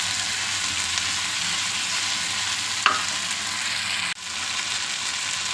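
Okra is tipped into a hot pan of cooked tomato and stirred, filling the clip with a steady, loud sizzle and frying hiss. A single sharp scrape of the spoon cuts through near the middle, and the sizzle drops briefly later on.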